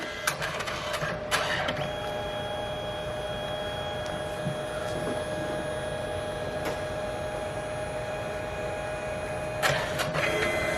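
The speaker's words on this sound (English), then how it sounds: "Now the printer is printing his first picture." A Canon SELPHY CP1500 portable photo printer runs through a print, giving a steady mechanical whir with faint tonal whines and a few clicks near the start and end, close by, with no speech.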